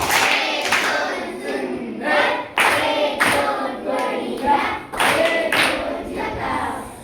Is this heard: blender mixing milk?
no